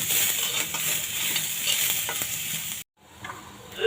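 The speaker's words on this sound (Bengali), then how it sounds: "রসুনটা আমার ভাজা এখানে হয়ে গেছে" Garlic and green chilies fry in a pan with a loud, steady sizzle and scraping stirs, then the sound cuts out abruptly before returning as a quieter hiss.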